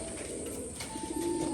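Pigeons coo in a loft, soft throaty calls rising over a steady background hum, close by and moderately quiet, with a brief chirp mixed in.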